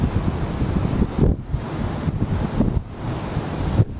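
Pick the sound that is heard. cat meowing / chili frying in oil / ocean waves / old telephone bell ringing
ocean waves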